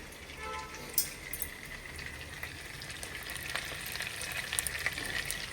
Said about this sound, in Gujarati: હવે છે ને તેલ આવવા દેશું પછી રાઈ જીરું હિંગનો વઘાર કરવાનો